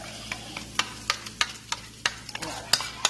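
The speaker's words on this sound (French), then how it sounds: "Nous mélangeons très bien pour éviter" Chicken pasta being stirred in a pan, with sharp repeated scrapes and knocks of a spoon against the metal over a low steady sizzle, close and uneven in rhythm.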